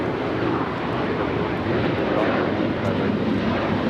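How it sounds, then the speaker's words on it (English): An Alaska Airlines Boeing 737-900ER takes off at Los Angeles airport, a steady broad jet roar heard from a distance, loud and unbroken. "Alaska Airlines 1374 taking off to Loretto on the 737-900ER"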